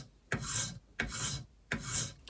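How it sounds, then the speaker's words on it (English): A metal file cross-filing a beater head, three distinct rasping strokes, each beginning with a sharp bite and then a loud grinding scrape, close up with no talk. "So cross filing,"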